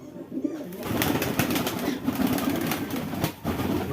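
Allahabadi pigeons cooing indoors, soft repeated low coos layered together with occasional wing flaps and clicks, close and continuous.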